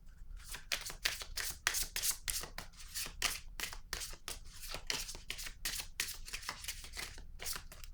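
Cards are shuffled by hand in rapid, rhythmic riffling bursts, close and fairly quiet, repeating steadily without pause.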